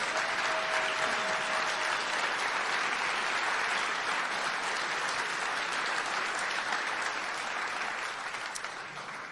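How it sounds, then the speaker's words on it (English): A convention audience applauds state legislators at a legislative panel, a loud, sustained roar of many clapping hands that holds steady for several seconds before easing slightly at the end. "let's give them a round of applause for all the work that they do."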